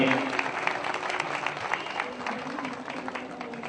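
An audience at a Hindu religious festival gathering, the Dwistabdi Mahotsav in Udhna, breaks into sustained applause to welcome a visiting swami, a dense steady wash of clapping with voices mixed in throughout.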